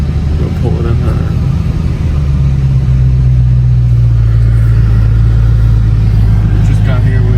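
A 1025 hp Dodge Demon 170 idles to warm up, its deep, loud, steady rumble settling into a lower, even drone, with faint background sounds over it.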